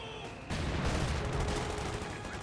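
In the video game Company of Heroes 2, an MG42 machine gun opens fire, a loud, dense burst of rapid gunfire that starts abruptly and continues as a sustained rattle.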